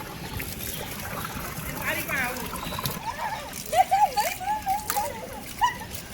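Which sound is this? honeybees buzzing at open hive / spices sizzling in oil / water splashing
water splashing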